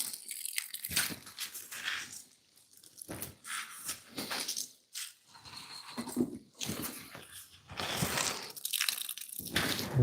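Salted cabbage packed down into a jar for sauerkraut, made by the 2% salt method, gives repeated crunching and squelching as it is pressed, with moist crackles and pauses between pushes, close by.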